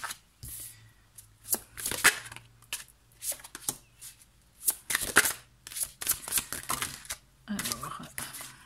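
Tarot cards being shuffled and laid out during a reading with crystal stones, repeated quick riffling bursts and slaps at irregular intervals, close by, with a voice talking in between.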